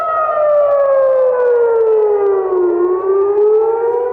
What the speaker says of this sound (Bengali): তেল আভিভ, জেরুজালেম সহ ইসরায়েল জুড়ে সাইরেন বেজে ওঠে।